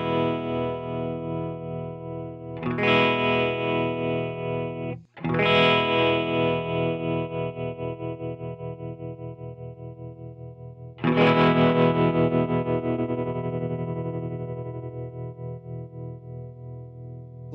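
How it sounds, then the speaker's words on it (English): Electric guitar chords run through a Walrus Audio Janus tremolo/fuzz joystick pedal at slow tremolo speed, ringing strums that pulse in slow, even waves of volume, loud and alone. "I'll start down here towards the bottom of the joystick and you'll hear a slower tremolo speed"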